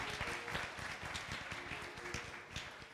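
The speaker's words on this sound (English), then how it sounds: "Give them a wonderful round of applause, please." Audience applause at a Sunday church service, a steady wash of many hands clapping at moderate distance, fairly quiet and continuous for the whole stretch.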